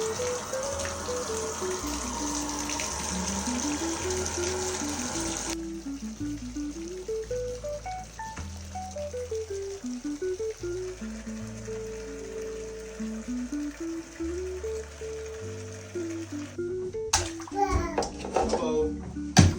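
Water pours into a bathtub for a toddler's bath, a steady rushing stream that later stops, while a child and an adult talk and a toddler babbles over it, ending with a few clattering knocks.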